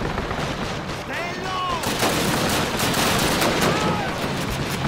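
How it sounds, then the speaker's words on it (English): Gunfire in Call of Duty United Offensive, a World War II shooter, with rapid shots and battle noise crowding together loud and close, with whizzing sounds streaking through the mix. "Getting shot from behind?"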